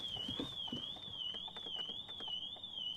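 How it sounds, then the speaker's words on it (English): A Ford Focus ST's aftermarket alarm wails continuously as a steady, gently warbling high-pitched tone that holds through the whole stretch, with faint clicks and handling noises underneath. "So the alarm system is going to start going off like all it is now."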